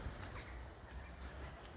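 Soft, low cooing from a feather-footed pigeon in a quiet setting, a few muffled coos spread across the moment with faint background noise.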